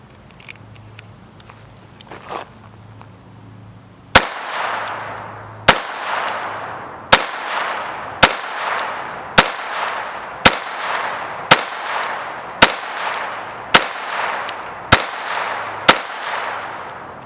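A Ruger SR22 pistol fires 40 grain Velocitor rounds into plastic bottles. About a dozen loud, sharp, close shots ring out in a steady rhythm, roughly one per second, after a few quiet seconds.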